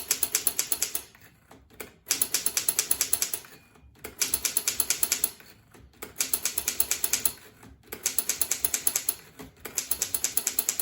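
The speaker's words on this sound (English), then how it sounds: "as you're typing, try not to type too fast like that" Keys clacking on a Corona Junior typewriter in rapid bursts of strikes, each run lasting a couple of seconds and separated by short pauses, close and crisp with mechanical rattle.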